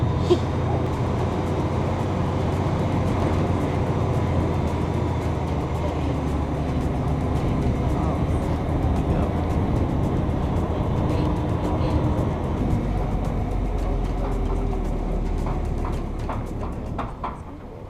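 A truck rumbles past at steady volume at a safari park, a low engine drone filling the whole stretch before easing slightly at the end.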